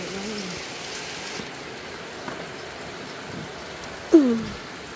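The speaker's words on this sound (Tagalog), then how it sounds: "maulan" Steady rain falls outdoors, a soft continuous hiss throughout, with a brief bird call near the end.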